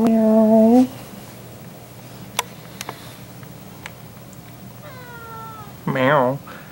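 A kitten meows up close three times, with a long cry at the start and two shorter mews near the end, separated by quiet ticks and clicks.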